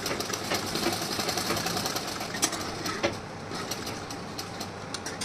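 A sewing machine stitches piping onto a blouse with a steady, continuous mechanical whir that runs close and even throughout, broken by a couple of brief clicks.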